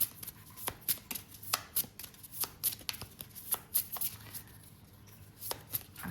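A deck of tarot cards is shuffled close up, with quiet, irregular riffling snaps and taps in rapid bursts over several seconds and no talking.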